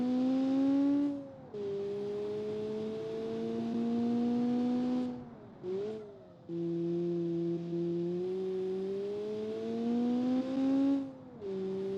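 In a video game, a Honda-swapped car engine revs high toward 9,000 RPM while climbing uphill, holding a loud, tonal whine that dips briefly at gear changes and climbs again.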